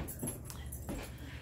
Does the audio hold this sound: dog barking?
yes